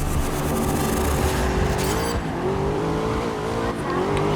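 A Ford Mustang race car engine in the GRID video game drones loudly and continuously, its pitch climbing and dipping slightly as it revs during a rolling start.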